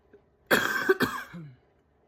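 A single harsh cough burst, close and clear, followed by a brief throaty rasp.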